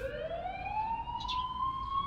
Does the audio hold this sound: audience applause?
no